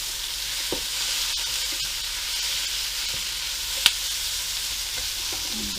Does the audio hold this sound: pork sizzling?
yes